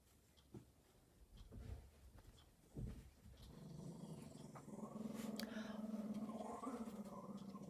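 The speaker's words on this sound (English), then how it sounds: "Oh, that's the older dog." An older dog growls at other dogs playing nearby, a low rumbling that builds and holds steady through the second half, with scuffling and brief yelps from the play mixed in.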